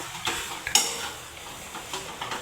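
Boiled potato is stirred into spiced vegetable filling for veg cutlets in a pan, giving soft scraping and mushy stirring sounds with a light sizzle beneath and one small clink of a utensil, no voices.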